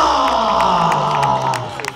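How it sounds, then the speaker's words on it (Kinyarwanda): A crowd at a CAF under-15 boys' football final cheers and whoops for the champion school team GS Cyarwa, loud and close, with a voice carrying over the noise before it fades. "Amashyi menshi kuri the champions ikipe ya Cyarwa"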